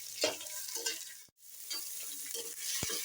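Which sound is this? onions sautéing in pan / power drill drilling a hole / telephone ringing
onions sautéing in pan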